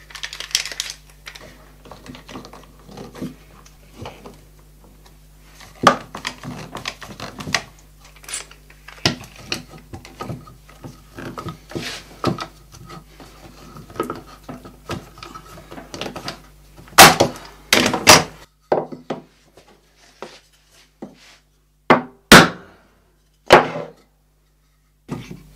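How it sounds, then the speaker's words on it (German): A clamp is tightened on a glued finger-jointed wooden box, producing irregular sharp clicks, ratcheting ticks and wooden knocks, sparse at first and growing louder and more distinct toward the end. "Jetzt nehmen wir uns einfach mal eine Zwinge und dann ziehen wir das zusammen."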